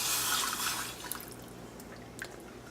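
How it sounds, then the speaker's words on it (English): Broth pours into a sauce mixture in a pan, a soft liquid splash and trickle that fades into scattered drips, quiet and with no talking. "we're just going to add the broth to the mixture now"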